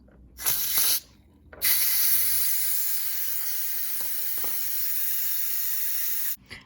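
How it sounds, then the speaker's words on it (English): Steam bursts from the release valve of an Instant Pot pressure cooker holding stew: a brief loud hiss, a short pause, then a long, steady, forceful hiss that runs for several seconds before cutting off abruptly. "we're just gonna go ahead and open her back up, let the steam out"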